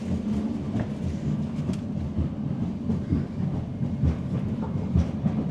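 A passenger train running on the Almaty to Astana line, heard from inside a compartment car as a steady loud rumble with faint rhythmic wheel clatter throughout.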